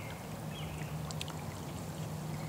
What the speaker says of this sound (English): This is a creek.